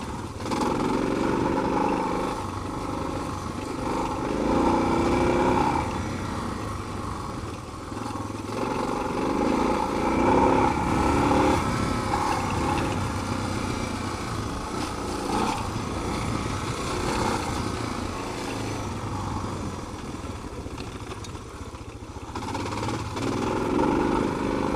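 A Suzuki DR650 dual-sport motorcycle rides a trail, its single-cylinder engine droning and rising and dipping as gears are shifted, heard steadily from the rider's position over wind and road noise.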